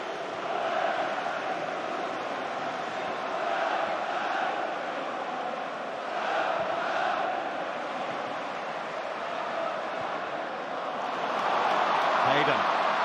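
A football crowd of over 50,000 at St James's Park roars steadily for the full stretch, a dense wash of massed voices that swells at intervals and climbs louder near the end.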